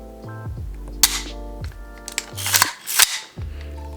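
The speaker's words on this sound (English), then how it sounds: "So here's the first trigger pull." A Sig Sauer MPX pistol, empty, is dry-fired: several sharp mechanical clicks and clacks of the trigger pull and reset, close and crisp, alongside a low steady hum and no speech.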